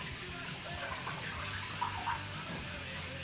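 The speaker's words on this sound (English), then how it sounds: "bring them into the sink to rinse them off" Water runs steadily from a tap into a sink as dyed overalls are rinsed under it, a continuous close splashing hiss with no talk.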